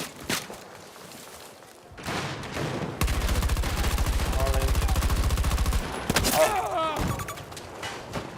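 Gunfire from a multiplayer shooter game, heard as sustained rapid firing bursts mixed with explosion-like blasts and shattering, while a player talks over the action.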